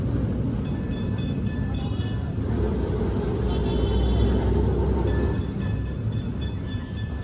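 A two-car tram rolls along its track in Kolkata, a steady loud rumble of wheels and motor with faint high metallic ringing tones over the top, holding close and continuous throughout.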